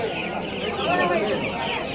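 Several chickens clucking and squawking close by amid busy chatter at a large bird market in Kolkata, with people talking over the birds.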